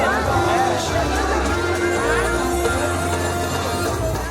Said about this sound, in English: The crowd is sizable.